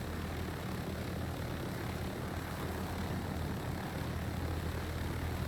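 A steady, continuous helicopter rotor and engine drone from a video game fills the clip at constant loudness, with no voices.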